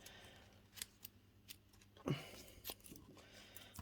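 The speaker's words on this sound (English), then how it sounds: "Where's my scissors? Cut a bit off." Scissors make a few faint, close snips while trimming ribbon or paper for handmade card making, quick isolated cuts in a quiet room.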